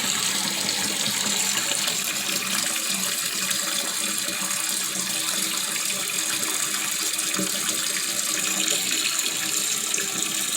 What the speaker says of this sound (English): I would basically go ahead and flush it once and let it fill in completely.